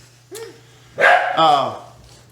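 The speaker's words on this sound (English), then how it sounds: "And the dog is barking." A dog barks indoors, giving a few sharp, loud barks close by, with a person talking in the background.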